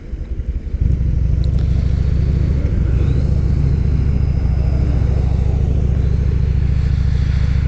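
A motorcycle engine rumbles steadily and loudly while riding, a close, continuous low drone that holds even from about the first second with slight variations in tone, no speech present.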